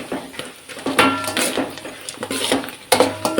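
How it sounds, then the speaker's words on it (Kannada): Potato chips frying in oil in a pan as a metal utensil mixes them, giving repeated clanks and scrapes with a faint sizzle underneath, close and fairly loud. "ಈಗ ಮಿಕ್ಸ್ ಮಾಡ್ಕೋಬೇಕು ಚೆನ್ನಾಗಿ ಫ್ರೈ ಮಾಡಬೇಕಾಗುತ್ತೆ"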